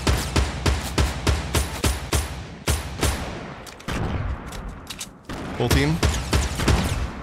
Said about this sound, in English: And people are shooting to the southeast-ish.